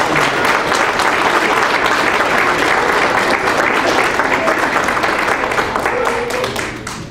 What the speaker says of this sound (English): Our pack, I think, owes Stacy a very warm round of applause